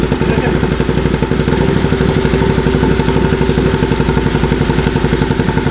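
A Can-Am 850 engine, fitted with a new exhaust, runs loud and close at a fast, even, rapid pulse as it fires on both cylinders, with a rattly, clattering edge.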